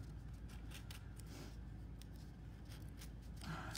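Craft knife cutting paper shapes for a shadow box, a string of quiet scratchy strokes and light ticks close by, faint and continuous without speech.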